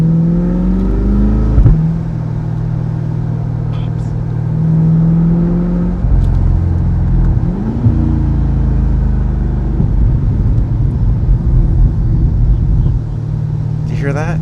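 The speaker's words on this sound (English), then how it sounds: "you can hear what this sounds like from inside the cabin with the roof open." A C8 Corvette fitted with an AWE touring exhaust, heard from inside the cabin with the roof open, drones and rumbles steadily, its engine note climbing and dropping through several gear changes across the stretch, loud and continuous.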